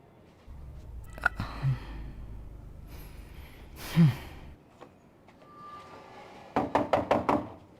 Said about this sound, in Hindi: मैं कब से दरवाजा खटखटा रहा था